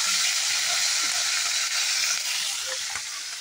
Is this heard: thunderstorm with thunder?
no